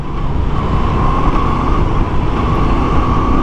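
A 2022 Moto Guzzi V7 Special motorcycle is ridden, its engine humming loud and steady beneath heavy wind and road rush, with no voices.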